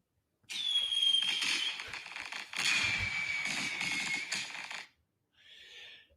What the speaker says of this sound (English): Fireworks, my friends. They was true fireworks.